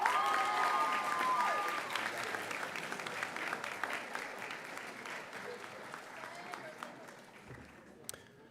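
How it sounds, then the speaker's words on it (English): An audience at a middle school awards night claps steadily, a dense wash of applause that is loudest at the start and gradually thins out, with a few cheers early on. "Let's give one final round of applause to all these students"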